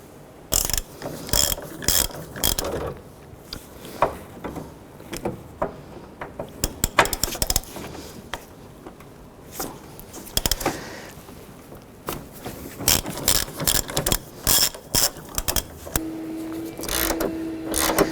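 A ratchet wrench with a 14 mm socket turns engine mount bracket bolts on a 2006–2011 Honda Civic, giving repeated bursts of rapid metallic clicking with short pauses between strokes, close by.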